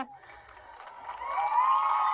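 An audience cheers and applauds for a film actress called up on stage, the crowd noise rising from a moderate murmur to a loud, sustained roar of clapping and shouts.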